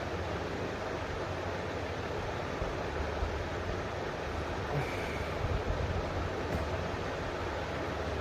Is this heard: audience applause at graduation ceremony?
no